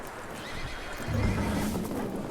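A horse in Red Dead Redemption 2 whinnies loudly and close, a rising then trailing neigh over a steady bed of game ambience, with no talk.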